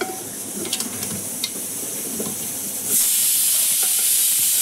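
A pressure cooker holding khichuri with dal and vegetables lets out a loud, steady hiss of steam that swells partway through and keeps going.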